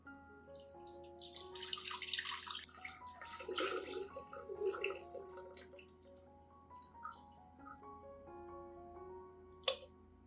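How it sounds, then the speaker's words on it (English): Rice water for an orchid being strained out of a lidded pot and poured, a steady trickling, splashing stream with small clinks of the container, close and continuous. "I will open the lid and carefully strain out the rice, keeping only the clear, nutrient-rich rice water."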